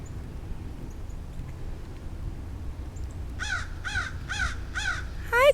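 A crow caws at a duck pond in West Newton, Pennsylvania, giving five loud, harsh calls in an even rhythm after a stretch of quiet outdoor ambience.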